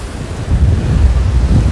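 Sea waves break on a beach of the Sea of Azov, a close, loud rush of surf blended with strong wind buffeting the microphone, and no talk over it.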